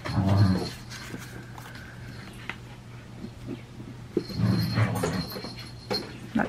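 Dogs, one named Hilton, play together indoors, whimpering and whining with soft panting and scuffling. Louder bursts of whines come at the start and again midway, with quieter stretches in between.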